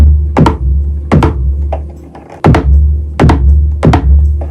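A drum-synth voice on an MPC sampler plays a boing with a pitch glide. Four punchy hits land in a steady rhythm, each falling in pitch, with a low drone held beneath them.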